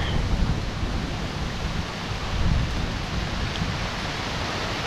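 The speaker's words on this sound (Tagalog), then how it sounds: "Hangin" Steady, broad rushing wind noise with low rumbling gusts, continuous throughout and fairly loud, with no voices.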